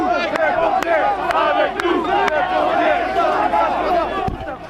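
A dense crowd of protesters surrounding a stalled fire truck near a large fire in a square, producing loud, continuous shouting and chanting that stays steady throughout and fades slightly at the end.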